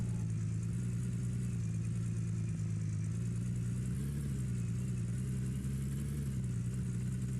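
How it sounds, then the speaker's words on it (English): Vehicle engine running steadily in the video game Gold Rush, a continuous low idling drone with no change in pitch or rhythm, moderately quiet and heard alone without talk. "Engine on."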